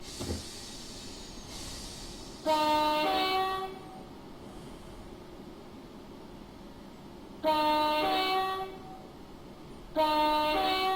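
A Class 378 electric train in Train Simulator, with a steady low rolling hum under three loud two-tone horn blasts, each lasting about a second.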